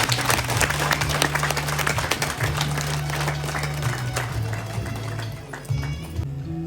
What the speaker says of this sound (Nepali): हुन्छ, ताली बजाइ सक्नुहुन्छ।